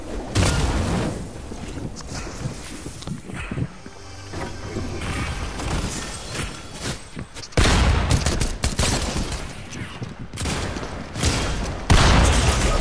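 Gunfire in a Fortnite match, with dense bursts of shots and booms continuing throughout, loud and busy, some bursts sharper and closer than others.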